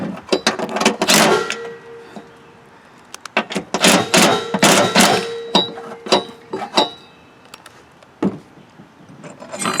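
A wrench ratchets as a bolt is tightened on a John Deere mower deck, bursts of close metallic clicking and clanking with pauses between turns.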